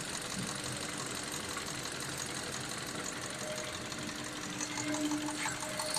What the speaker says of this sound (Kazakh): Motorun da звугун угабыз азыр.